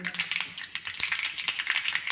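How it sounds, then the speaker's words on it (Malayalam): Rapid irregular crackles and pops, sharp and close, of mustard seeds spitting in hot oil, with a faint voice in the background. "കടുക് പൊട്ടി വരുമ്പോൾ നമുക്ക്"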